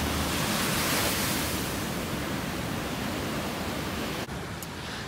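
Dense, continuous roar of ocean surf on a Sri Lankan beach, loud and enveloping, with a slight drop in level near the end and no voices over it.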